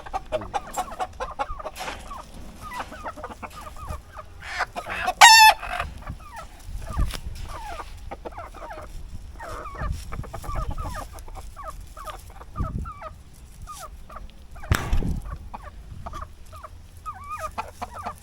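Hens cluck steadily around a farmyard coop while a rooster lets out one loud, close crow midway, with scattered squawks and a second burst of fowl noise later.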